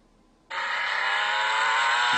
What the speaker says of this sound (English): There's a couple of Ferrari ringtones to install.